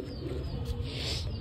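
Pigeons kept for sale coo softly in a pen, a faint low rolling coo repeating under quiet background noise.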